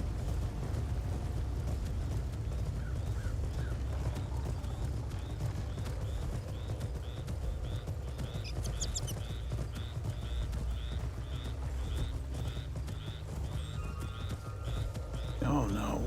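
Horse hooves clip-clop at a steady pace through Skyrim's game world, a regular trotting beat running throughout over a constant ambient bed, with a few brief rustles and a clatter near the end.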